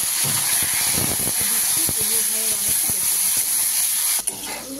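Bitter gourd fries in oil with fenugreek, bay leaf and dried chilli, making a loud, continuous close sizzle and hiss, with a few faint clinks of stirring.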